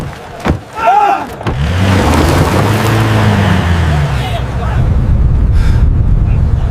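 A car starts and pulls away, its engine rising into a strong, steady drone after a few thumps, while people talk over it.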